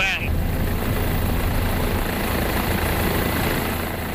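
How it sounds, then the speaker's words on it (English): A helicopter landing in the jungle gives a loud, steady rotor and engine roar that fills the whole stretch without letup, with a brief higher whine at the very start. "then the helicopters, before we knew it, took off"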